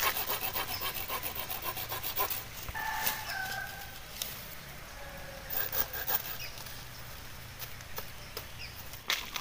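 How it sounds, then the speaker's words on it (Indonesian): Rhythmic strokes of a hand saw cutting through lempeni tree branches gathered as bonsai material, steady and close, with a rooster crowing in the background partway through and no talking. "Nanti kita bersihkan, kita potong-potong sesuaikan dengan ukurannya."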